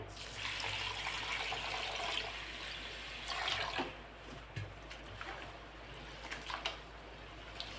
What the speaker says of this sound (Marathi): आता हा स्वच्छ निवडून घ्यायचा आणि तीन ते चार वेळा पाण्याने धुवून घ्यायचा आहे